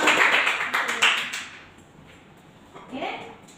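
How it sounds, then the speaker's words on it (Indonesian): Classroom students clapping their hands, a short burst of several sharp claps at the start that fades out, followed by quieter room sound and a brief voice near the end. "Beri tepuk tangan."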